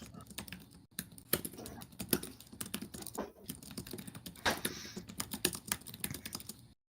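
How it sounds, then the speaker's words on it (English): Rapid, furious typing on a computer keyboard, dense irregular clicks and clacks in quick bursts with brief pauses, close and fairly quiet, no voices over it. "I'm hearing lots of typing."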